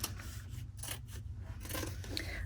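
Scissors cutting through foam core board for a quilt block design board, a soft repeated crunching and snipping rasp in several strokes, close and fairly quiet with no talk.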